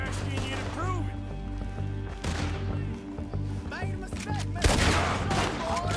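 Gunfire in the video game Red Dead Redemption 2, with a series of sharp shots and crashes scattered over a continuous musical and ambient game soundtrack, plus voices talking at points.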